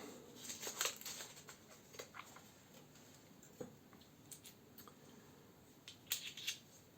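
A new Caveem safety razor, champagne coloured with a matte finish, comes out of its packaging with faint, scattered crinkles and light ticking rustles close by in a quiet room.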